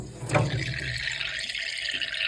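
Water gushing out of a cut vending machine refrigeration pipe during a repair, a steady splashing, running stream with an early burst, close and continuous.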